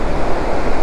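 Water rushing at Srisailam, a loud, dense, continuous roar of churning flow with wind buffeting the microphone, no voices.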